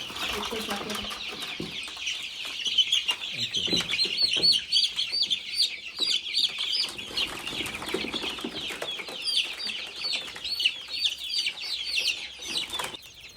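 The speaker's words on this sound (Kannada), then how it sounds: "ಕೋಳಿ ತರೋಣ ಅಂತ ಬಂದಿದ್ವಿ" Native country chickens on a village poultry farm cluck and chirp continuously, a dense chorus of many birds close by with faint voices occasionally underneath.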